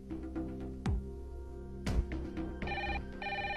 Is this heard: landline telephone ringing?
yes